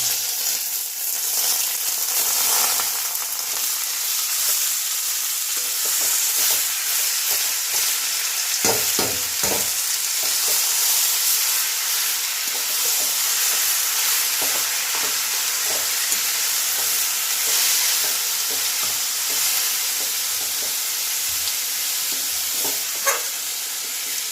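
Ash gourd pieces fry in a pan for a vegetarian Bengali shukto, with a steady loud sizzle and occasional stirring scrapes throughout.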